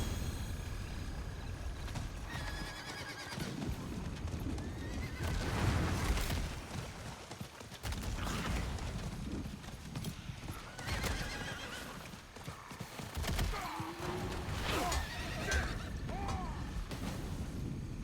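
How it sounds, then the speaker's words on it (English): In Diablo IV, a horse repeatedly neighs and whinnies while its hooves clip-clop, mixed with booming combat impacts and game effects, moderately loud and continuous throughout. "Damn horse getting stuck"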